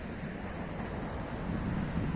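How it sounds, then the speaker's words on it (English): Mediterranean Sea waves at Erdemli beach wash in a steady, broad surf roar with wind buffeting the microphone, moderately loud and continuous with no voices. "enjoy this Mediterranean Sea right here"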